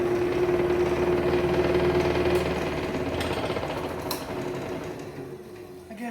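Wood lathe spins a slightly out-of-balance geared bowl at slow speed, giving a steady rapid rhythmic thrumming hum with a faint vibrating chatter, close and continuous, fading a little toward the end.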